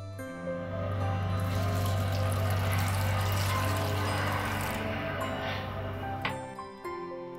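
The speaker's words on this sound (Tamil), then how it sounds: "அதை ஒரு தடவை தண்ணி ஊற்றி நல்லா கழுவி எடுத்துக்கிறேன்" Water pours steadily into a container of rice flakes to rinse them, a continuous splashing rush for several seconds that tapers off at the end.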